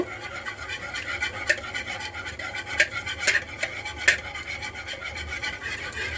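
Three eggs are beaten in a bowl with a hand mixer, giving a steady rasping, scraping whir for several seconds, marked by occasional sharp clinks against the bowl.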